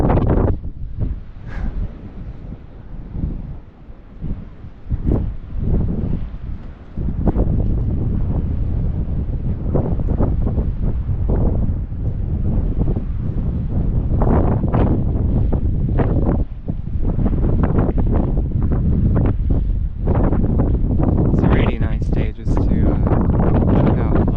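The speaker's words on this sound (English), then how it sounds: "waves splashing against the rocks." Waves splash against coastal rocks on a windy October shore walk, a continuous rush of surf with repeated bursts, close and loud under heavy wind buffeting on the microphone, with occasional brief voice sounds in the background.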